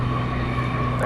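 American Airlines Boeing 777-300ER arriving from London Heathrow at DFW Airport at night, a steady broad engine roar with a low hum, continuous and moderately loud throughout.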